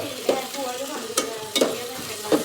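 Food being stirred while frying in a home kitchen pan: a steady sizzle with several scraping stir strokes of a utensil at irregular intervals, close and moderately loud.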